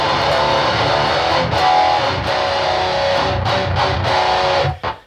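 Electric guitar through a modified MXR overdrive, distortion and a clean boost, a dense, saturated high-gain wall of sound played loud and steadily for about five seconds before cutting off abruptly.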